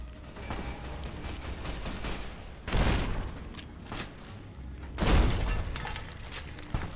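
An explosive anti-material rifle fired in the video game Fallout: New Vegas, two heavy booming shots a couple of seconds apart over a constant rumbling game background with smaller clicks and bangs.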